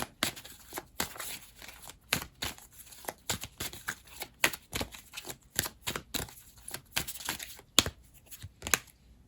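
Tarot cards shuffled and drawn during a pick-a-card reading, a close, quiet stream of rapid riffling, slapping and papery flicks with irregular bursts and brief pauses, no talking.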